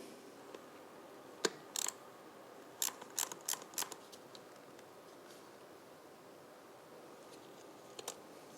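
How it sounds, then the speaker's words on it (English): Choke mechanism on Yamaha XJR 1300 carburettors being worked by hand gives faint, close mechanical clicks and ratcheting snaps in short irregular clusters over a quiet background. "here's the mechanism on the carbs working"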